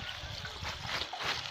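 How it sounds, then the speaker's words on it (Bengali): Raw palm juice pours into a jar with a steady, gentle trickling and splashing at close range, continuous throughout. "এই যে দেখেন এখন এখানে ঢেলে দিবে।"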